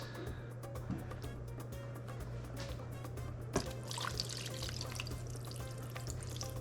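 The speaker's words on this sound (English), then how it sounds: "we're gonna add a little bit of water to this" Water pours and trickles steadily into a pressure cooker pot holding pork, a soft continuous splashing over a faint background hum.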